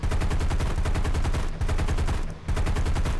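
Rapid bursts of aircraft cannon fire in the War Thunder flight game, a dense continuous rattle of shots with two brief pauses, loud and close.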